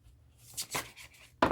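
A deck of tarot cards being shuffled makes a few soft, quick papery riffles and rustles close by, ending in a sharper snap of cards.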